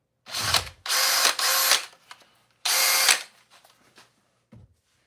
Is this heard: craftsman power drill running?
yes